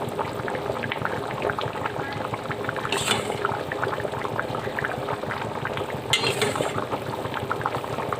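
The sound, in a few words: paneer gravy boiling in a pan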